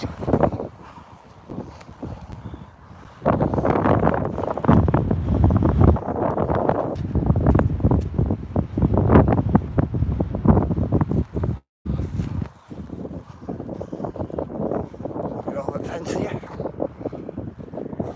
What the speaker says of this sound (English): Get out of all this wind.